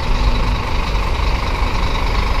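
A bus engine idles at a bus terminal, a loud, close, steady diesel rumble with a rough, churning texture and no speech over it.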